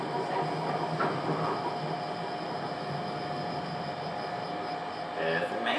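A Little Rock Metro streetcar pulling away from a downtown stop, heard from inside the cab as a steady rumbling roll with faint clatter and a high whine, continuous and fairly loud.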